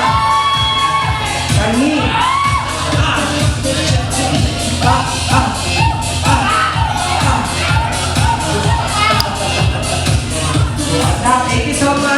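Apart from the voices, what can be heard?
audience applauding and cheering for contest entry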